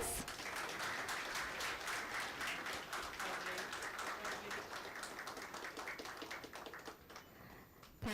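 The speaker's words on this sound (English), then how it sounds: "With a huge round of applause" Applause at a company stock listing ceremony, a room of people clapping in a sustained, even patter for about eight seconds, gradually thinning toward the end.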